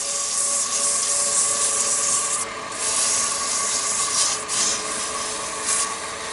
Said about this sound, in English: This is like the last sanding that I will do on the piece.